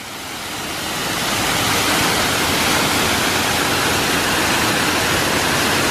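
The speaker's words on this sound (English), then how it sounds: "really, really beautiful waterfall. Obviously it's all man-made as well" A man-made waterfall at the Eden Project gives off a dense, roaring rush of falling water. It swells over the first second or two and then holds loud and steady, with no voices.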